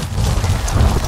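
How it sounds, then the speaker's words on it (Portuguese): Rain in a dark Halloween horror video game, a steady close hiss of falling drops with a low rumbling undertone, heard alone for about a second. "Chuva."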